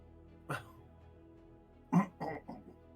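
Short, dog-like barks: one single bark, then a pause, then a quick cluster of three, each brief and moderately loud against a quiet background.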